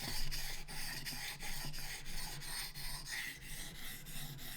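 A bushcraft knife edge drawn repeatedly across a fine whetstone, giving a steady run of soft, evenly spaced rasping strokes at close range with no voices.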